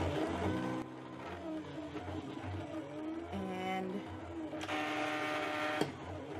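A Silhouette cutting machine runs a PixScan cut, giving a steady mechanical whir with shifting motor tones and brief higher-pitched buzzy passes as the carriage moves. It stays close and fairly loud, with one short spoken word at the start.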